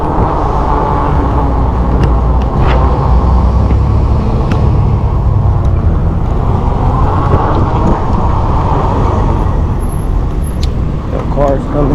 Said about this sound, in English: The car's coming.